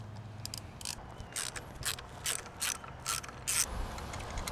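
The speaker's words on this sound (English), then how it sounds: "we're gonna go ahead and loosen up these two perch bolts" Rapid ratchet clicks come in short, repeated bursts close up as perch bolts on the handlebar of a 2019 Harley-Davidson Road Glide Special are loosened, quiet between strokes.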